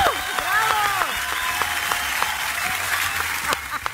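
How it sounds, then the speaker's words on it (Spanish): Studio audience applause greets new presenters on a children's Sunday TV show, dense steady clapping with a few bright whistles or cheers at the start. "un aplauso para estos nuevos presentadores"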